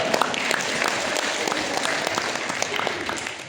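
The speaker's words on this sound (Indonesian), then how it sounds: "Tepuk tangan buat kita semuanya." A crowd claps steadily and densely for a few seconds, a continuous wash of applause with no pauses.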